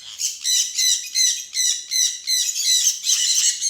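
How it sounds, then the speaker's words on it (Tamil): A flock of many caged parrots in an aviary chirp and squawk in rapid overlapping bursts, shrill and bright, pulsing roughly twice a second at close range with no talking. "இது பாருங்கள், நிறைய கிளி வச்சுருக்கோம்"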